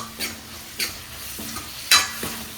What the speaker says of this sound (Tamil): கொஞ்சமாக கொத்தமல்லி இலை சேர்த்து நல்லா ஒரு கோல்டன் ப்ரௌன் வதக்கிது